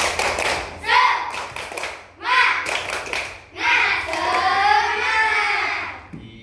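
A classroom of children does a rhythmic spirit clap, bursts of patterned hand claps in short phrases broken by pauses, with young voices chanting along close by.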